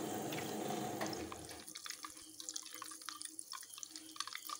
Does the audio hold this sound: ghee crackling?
yes